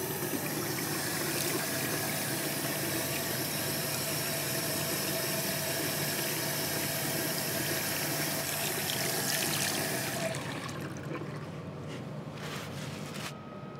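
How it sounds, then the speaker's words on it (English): Tap water running steadily in a food production facility while hands are washed, a loud continuous close splashing rush that cuts off near the end, leaving faint drips. "We need to wash and dry our hands thoroughly before we can enter."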